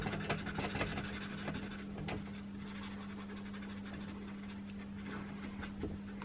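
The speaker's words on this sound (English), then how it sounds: "get something like a Sharpie or a texter and kind of just color around the area that needs to be cut away on the key" A Sharpie marker colouring around the area of a key to be cut away. Steady close scratchy rubbing runs the whole time over a constant low hum, with no talk.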